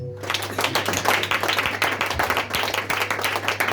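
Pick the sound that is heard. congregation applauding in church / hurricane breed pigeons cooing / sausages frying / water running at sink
congregation applauding in church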